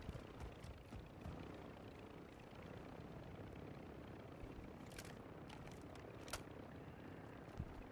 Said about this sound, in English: choppers above us